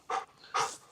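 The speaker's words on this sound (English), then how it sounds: "The dog is super excited to be here," An excited dog pants in two quick, close breaths during a first campout in a Ford Transit Custom camper van, with no voices over it.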